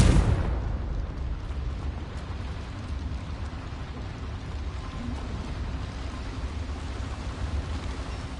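A Confringo fire spell explodes in Hogwarts Legacy, one sharp close blast at the start that decays into a long, steady crackling rumble, like falling debris or rain, lasting several seconds.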